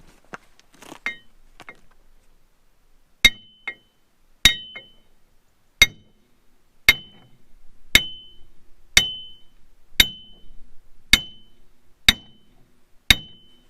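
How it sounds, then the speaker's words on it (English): A copper hammer strikes metal during a Citroen 2CV wheel bearing replacement, landing about a dozen sharp ringing blows at a steady, slightly quickening pace after some quieter fiddling with parts. "Check this out, proper copper hammer."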